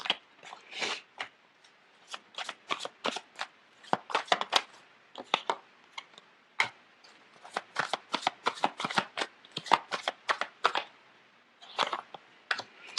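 Tarot cards being shuffled by hand in rapid bursts of crisp riffling and slapping, close and clear, with short pauses between rounds and no talking.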